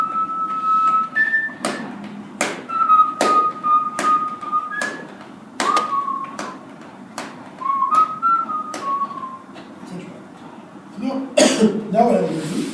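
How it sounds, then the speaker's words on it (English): A person whistles a slow melody in clear sustained notes, interrupted by sharp taps or clicks and a cough near the end. "I'm going to whistle."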